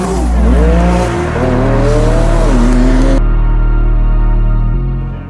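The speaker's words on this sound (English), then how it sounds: "it's a pretty violent start, as you can see. If the car is spinning tires, very aggressive" A Nissan R35 GT-R drag car of roughly 2500-3300 bhp launching at a drag race, its engine roaring loud and close with steady revving tones while the tires spin and squeal, then the pitch settles into a sustained drone.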